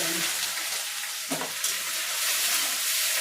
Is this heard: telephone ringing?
no